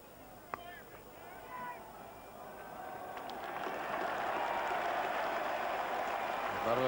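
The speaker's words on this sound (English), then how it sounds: "A lot of applause there for Jeff Boycott." Crowd at Lord's cricket ground applauding Geoff Boycott during the England v West Indies Test, a broad wash of clapping that builds and sustains from a distance.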